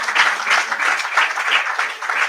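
An audience at a book fair in Gambia claps for a speaker, a fairly loud, even patter of many hands that swells and eases slightly over a couple of seconds.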